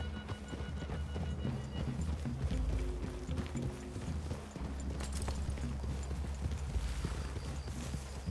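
Horses from Red Dead Redemption 2 gallop with a dense, rapid drumming of hooves, steady and close, over a low rumbling ambience.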